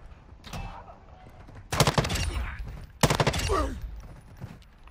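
Gunfire in a video game battle at the Koshchei Complex: two loud bursts of rapid shots, each rattling for about a second, with a faint earlier pop and quieter pauses between.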